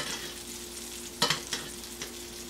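Salmon frying in butter in a pan, a soft steady sizzle with a few brief clatters of a utensil moving the fish.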